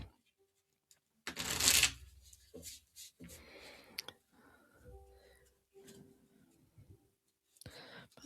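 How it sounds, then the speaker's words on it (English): A deck of cards riffle-shuffled in one loud burst, followed by softer handling, tapping and a few quick riffles, fairly close. "Let's get these shuffled and see what our card of the day is going to be"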